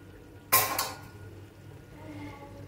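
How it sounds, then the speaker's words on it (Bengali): A metal lid lifted off a pot of chicken kosa simmering on a gas stove, a sharp clatter followed by a brief rattle, then a soft low simmer under quiet room noise. "এবার আমি ঢাকাটা খুলে নেব।"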